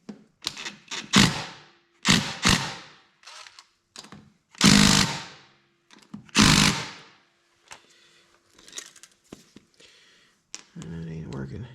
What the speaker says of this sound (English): let's see if we can get the lug nuts off here